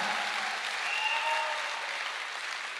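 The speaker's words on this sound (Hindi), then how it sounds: "एक तालियां जरूर होनी चाहिए" Steady, fairly loud applause from a seminar audience at a business-plan presentation, continuous for about three seconds with no talking over it.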